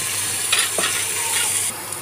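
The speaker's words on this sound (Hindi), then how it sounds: "दाल को दो चार बार भूनने के चलाने के बाद वो भून गया है" Dal with browned onions stirred and frying in a pan, a steady close sizzle with a few scraping spoon strokes across the pan bottom.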